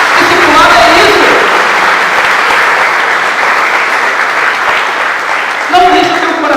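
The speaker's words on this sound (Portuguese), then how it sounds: "Vamos dar uma salva de palmas ao Senhor?" A church congregation breaks into loud, sustained applause during a sermon, a dense wash of clapping filling the room, with voices heard briefly at the start and again near the end.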